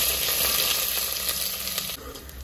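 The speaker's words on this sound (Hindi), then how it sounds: "अब इसमें हम डालेंगे बारीक कटी हुई प्याज।" Finely chopped onions hit hot oil seasoned with cumin seeds and asafoetida, giving a loud, steady close-up sizzle and crackle that runs unbroken and slightly eases near the end.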